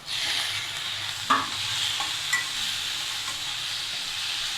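Potatoes sizzle steadily in a hot pan with salt and turmeric while a utensil stirs them, with a couple of scraping knocks against the pan.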